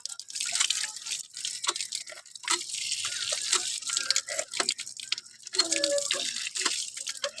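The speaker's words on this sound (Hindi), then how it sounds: "वाटर पंप लगा हुआ और वहाब अली और हरमबास ना पानी भी पी रहे हैं।" Water from a village hand pump spatters and splashes in uneven bursts, close by, with drips and a patter on the ground below as children drink from it.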